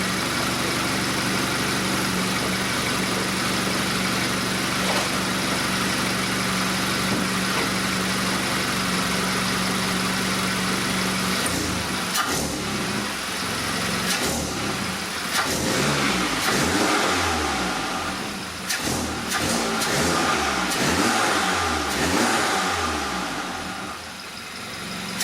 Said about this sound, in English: Give her a couple revs, boys.